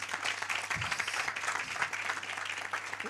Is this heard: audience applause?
yes